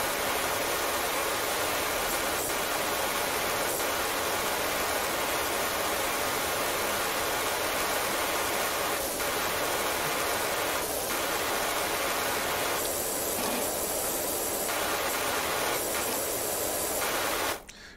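A pressure washer in PowerWash Simulator blasts water in a steady, loud hiss that runs almost unbroken, with brief surges and pauses near the end as the spray is aimed across a vehicle bumper.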